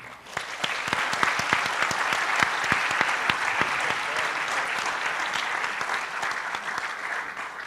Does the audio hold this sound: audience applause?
yes